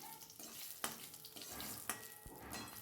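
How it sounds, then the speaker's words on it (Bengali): Cumin and dried red chili sizzle in hot oil as a tempering for dal, a steady soft hiss with a couple of light utensil taps, fairly quiet and close. "বিনা আদাতেই ডালটা ফোড়ন দিচ্ছি"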